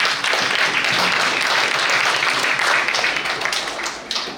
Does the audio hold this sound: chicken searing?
no